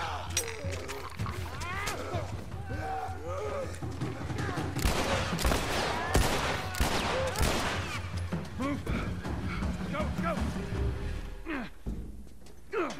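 Gunfire in The Last of Us, with several loud, sharp shotgun blasts and heavy thuds packed into the middle stretch. Game sounds and a talking voice run underneath throughout.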